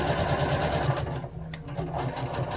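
Sewing machine stitching fabric for an overall top, a fast, steady mechanical whirr close by that briefly slows and pauses before picking up again toward the end.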